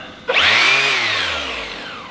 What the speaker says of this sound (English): We just bought this sander.